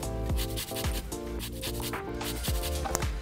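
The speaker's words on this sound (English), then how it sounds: "Now we move to the lemon. You want to put just a little bit of our zest." A lemon being zested for a curry and garlic shrimp dish, giving steady close scraping and rubbing strokes with a few sharper swipes, under a sustained tonal background hum.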